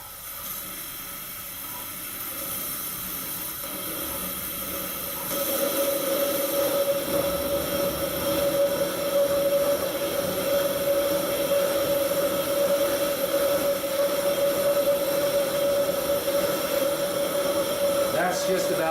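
A vintage Coleman gas lantern burning at full flame gives a steady, loud roaring hiss that grows stronger as the valve opens and then holds a constant, jet-like tone, with someone talking over it.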